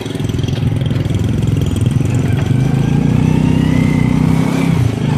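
A motorbike engine runs steadily nearby, a loud, continuous rumbling drone that holds an even pitch with only slight swells and no speech over it.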